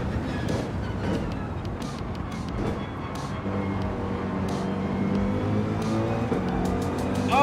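Corvette race car engine in Gran Turismo 7, a steady loud drone with harmonic whine rising and shifting through gears, running continuously and close throughout.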